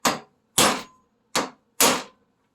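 Four sharp, ringing hammer blows on a steel U-joint during removal, close and loud, each decaying quickly, spaced unevenly with silence between them.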